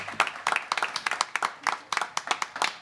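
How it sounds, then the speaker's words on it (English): Audience at an Ojai peace festival award presentation giving the recipient a round of applause: a small group's distinct, close hand claps in a quick, uneven rhythm, no voices. "I want Dulanie to get a ginormous round of applause"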